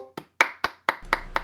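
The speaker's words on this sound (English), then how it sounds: "Please clap." Half a dozen separate, crisp claps spaced at uneven gaps after a school presentation, sounding like only one or a few people clapping close by in an otherwise quiet room.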